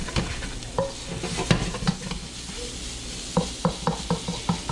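Coconut curry chicken being stirred and shaken in a hot pan, with a steady close sizzle broken by repeated scraping utensil strokes and clatters, rhythmic toward the end.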